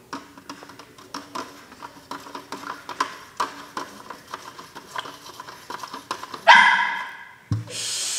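A female dog barks and yips repeatedly indoors, a string of short close barks over several seconds, followed by a louder burst of rustling and clatter near the end.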